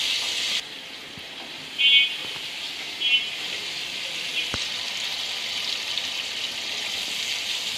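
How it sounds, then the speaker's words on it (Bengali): Potatoes sautéing in a spice paste in a pan make a soft, steady sizzle that carries throughout. A couple of brief louder bursts and a sharp click break it, with no talking. "আলুগুলো দিয়ে আমি ভালো করে কষাই নেব এটার মধ্যে।"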